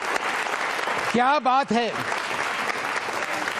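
Audience applause at a Ramadan-themed religious quiz show, a broad wash of clapping throughout with a brief moment of a voice cutting in over it.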